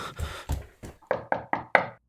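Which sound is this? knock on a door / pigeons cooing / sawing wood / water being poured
knock on a door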